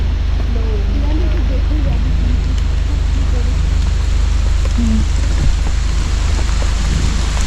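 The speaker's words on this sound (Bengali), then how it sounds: "এখন এখানে বীভৎস বৃষ্টি হচ্ছে" Heavy rain pours steadily at the entrance of Arwah Cave in Meghalaya during a thunderstorm, a dense, loud wash of drops throughout with faint low rumbles and occasional voices underneath.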